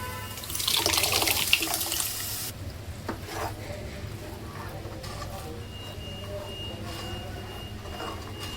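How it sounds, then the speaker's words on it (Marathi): Water pours into a cooking pan of pav bhaji vegetables in a loud steady gush for about two seconds, then gives way to a softer bubbling simmer with faint clinks. "दोन ग्लास पाणी टाकून घेऊया"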